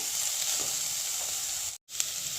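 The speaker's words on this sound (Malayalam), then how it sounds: "ചെറുതായിട്ട് വഴണ്ട് വന്നിട്ടുണ്ട് നമ്മുടെ ഉള്ളി. കുറച്ചും കൂടെ ഒന്ന് വഴണ്ട് കിട്ടണേ." Onions sautéing in a pan for brinjal masala make a steady, close sizzle with faint stirring, broken by one very short gap, with no talking.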